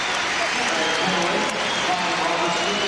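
A crowd applauds as a player heads out of a 1997 Kansas vs. Santa Clara college basketball game, a continuous arena clapping and crowd murmur held at a moderate, steady level throughout.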